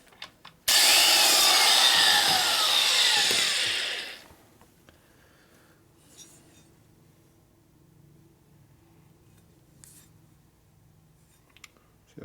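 A valve seat cutter grinds into the aluminum of a Harley FXR cylinder head in a short, loud, rasping burst of about three seconds, then stops, leaving quiet workshop ambience with faint clicks.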